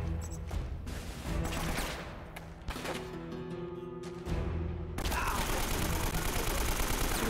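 Gunfire in the action game Uncharted: Drake's Fortune, with bursts of shots and heavy layered battle noise continuing throughout, loud and dense, with a brief lull before a harsher wash of sound.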